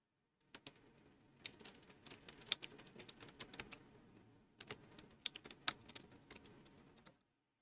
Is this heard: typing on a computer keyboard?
yes